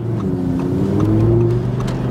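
A 2017 Audi R8 supercar engine revs loudly with its exhaust baffles open, producing a close, sustained throaty roar that holds steady without any voices over it.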